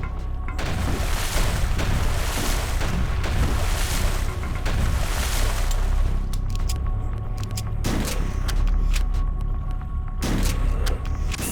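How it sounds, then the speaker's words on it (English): Grenades from a booby trap in a corridor explode one after another in HROT, loud heavy blasts over a dense roaring bed of game noise, with no talking. "There's a pretty decent booby trap in this corridor, which I nearly handled well, I just didn't move out the way of the grenades for some reason."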